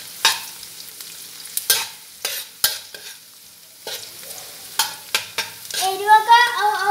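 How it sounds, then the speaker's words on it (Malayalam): Chillies are sautéed and stirred in a frying pan for Kerala-style tapioca biriyani: sharp scraping spoon strokes at irregular intervals over a faint background sizzle, close and clear. "ചില്ലി ചേർക്കാം, പിന്നെ നന്നായി ഉരുമ്പി വഴറ്റാം."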